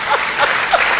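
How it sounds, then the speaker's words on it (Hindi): Audience applause at a Hindi poetry recital (kavi sammelan): a dense, loud wash of many hands clapping, sustained for about a second with no break. "ताली बजा सकते हैं"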